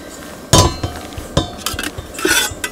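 Metal cookware clanking at a truck campsite: a few sharp clanks and clinks as a frying pan and lid knock together, close and loud, with brief rattles between.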